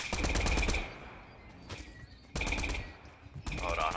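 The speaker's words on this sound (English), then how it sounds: "Someone's shooting at you, yeah, over here somewhere." Fortnite gunfire rattles in loud, rapid bursts, a long volley at the start, another after a pause, then a third, with quieter gaps of game ambience between them.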